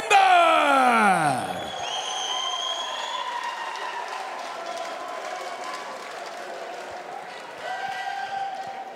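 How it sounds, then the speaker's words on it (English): A crowd at an LFL 9 fight event cheers and applauds a knockout winner, a steady broadband roar that runs the whole clip beneath a loud announcer's voice or music and swells again near the end. "ladies and gentlemen, a big applause for the champ, Andreaas Binder!"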